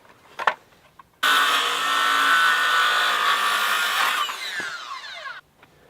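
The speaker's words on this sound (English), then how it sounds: "you're going to use a skill saw" A skill saw spins up and cuts through wooden boards outdoors, a loud sustained whining buzz for about three seconds that winds down as the blade slows, with a sharp knock just before.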